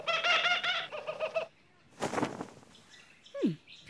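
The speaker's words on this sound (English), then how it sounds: "Peculiar bird." A bird calls repeatedly in an outback setting, a run of harmonic chirping notes followed by a sharp descending cry, with a voice speaking in between.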